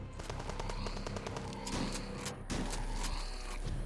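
Submachine gun fire from enemies in the video game HROT rattles in quick repeated bursts amid other game sounds, steady and moderately loud with a couple of sharper impacts.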